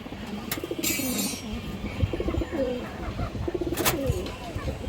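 A Muslodom pigeon coos in low, repeated rounded calls close by, with people talking over and around it throughout.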